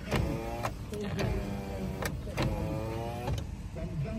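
A Toyota Hiace power window motor whirs as the glass moves up or down with the engine off, humming in several short runs that end in clicks and thuds, close and clear.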